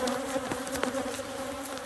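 Honey bees buzz steadily at close range during a honey harvest beside a truck, a continuous droning hum with no talking over it.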